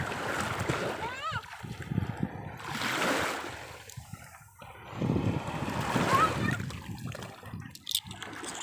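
Sea water splashes and surges at Sai Kaew sandy beach in Sattahip, with broad swells of wash and wind noise rising and falling, while someone talks over it.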